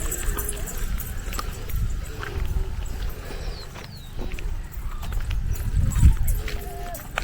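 Cows walk along a path toward grazing land, their hooves clopping irregularly close by. People talk and call out over the steps.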